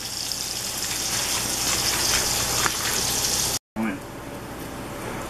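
Burger patties searing in a hot pan, a steady loud hiss with faint pops that cuts out abruptly for a moment and then resumes more quietly.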